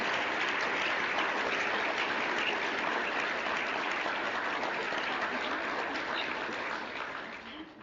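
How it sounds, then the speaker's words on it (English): An audience at a white coat ceremony applauds in a dense, sustained wave of clapping that tapers off slightly at the end. "One more round of applause for the class."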